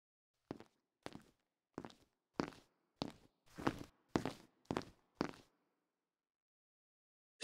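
Nine dry, hard footsteps land one after another, each a sharp crisp thud on a hard surface with silence between, evenly paced, close and isolated.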